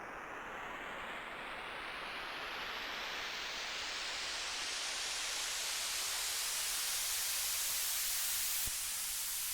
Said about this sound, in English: Got some white noise right there.